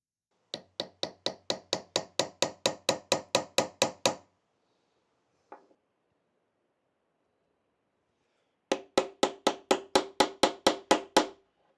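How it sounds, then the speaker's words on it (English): Hammer blows on a center punch marking the handlebar of a Honda CRF300 Rally: two runs of about fourteen quick, evenly spaced metallic taps, close and sharp, separated by a pause with one faint knock. "I'm going to use a puncher to punch a marking, an indentation, right in the middle of the marking we have done."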